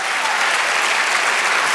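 A church congregation applauds during a sermon, a loud, dense, steady wash of many hands clapping at once with no voices on top.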